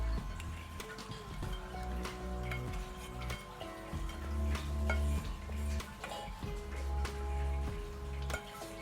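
Elderberry mixture tipped from a saucepan into a muslin bag set in a bowl, with liquid pouring, splashing and the pan clattering and scraping against the bowl, close and steady throughout.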